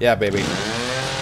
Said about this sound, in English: so we can cut it with a chainsaw